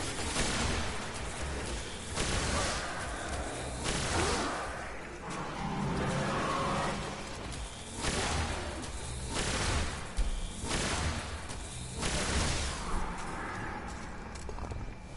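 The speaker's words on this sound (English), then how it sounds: "you want to get a look at the charge time on this fusion rifle" Destiny fusion rifle charging and firing in a video game, loud broadband bursts repeating about every two seconds over continuous battle noise.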